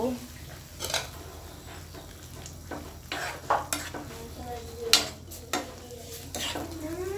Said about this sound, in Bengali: ভালোভাবে নেড়ে চেড়ে দিয়েছি